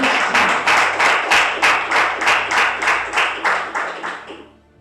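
A church congregation claps in a steady rhythmic beat during a night service, about a dozen even pulses, then the applause fades out.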